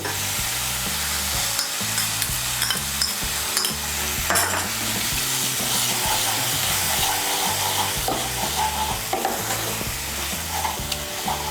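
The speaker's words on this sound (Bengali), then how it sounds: "এখন আমি সমস্ত মশলাগুলো ভালো করে মিশিয়ে নিয়ে মশলাটাকে ভালো করে কষিয়ে নেব।" Ground spices and tomato paste stir-fry in oil in a pan, a loud steady sizzle and hiss throughout with repeated rhythmic scraping of a spoon against the pan, close and uninterrupted by speech.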